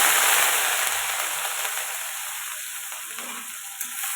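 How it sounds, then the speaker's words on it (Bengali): Cumin seeds and small prawns hit hot oil in a wok, giving a loud, steady sizzle that is strongest at the start and settles into a continuous hiss, with no talking. "তেল গরম হয়ে গেছে জিরে ফোড়ন দিয়ে দিলাম আর ওই যে এই যে ফুল চিংড়ি কিছুটা দিয়ে দিলাম"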